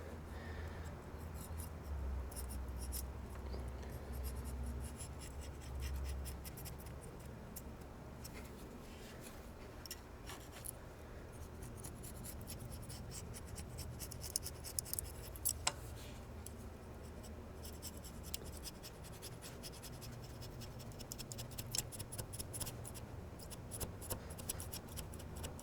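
A razor blade scraper is worked across a cast iron engine block at a thermostat housing, giving faint, continuous rasping strokes with occasional sharper ticks, close but quiet and without talk.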